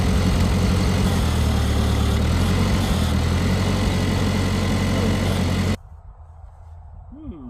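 A Farmall Cub tractor engine running on a 6-volt system chugs steadily and loudly up close with a rough, low idle, then cuts off abruptly, leaving quiet background with a faint brief sound.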